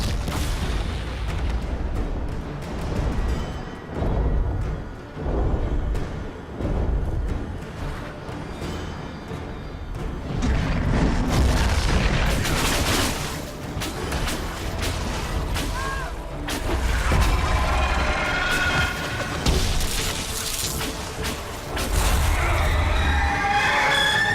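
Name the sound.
dragon shooting fire in Dragon Age Inquisition video game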